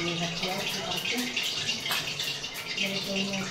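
Water hits hot tempering oil in a kitchen while lauki kofta is being cooked, giving a steady sizzle and crackle under a voice.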